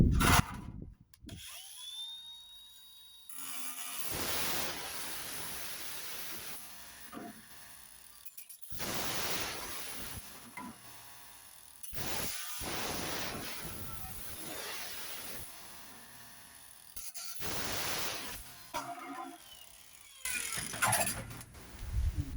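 A metal downpipe is cut to length with tools. Repeated harsh, rasping bursts of cutting alternate with short pauses and clatter of handling, close by.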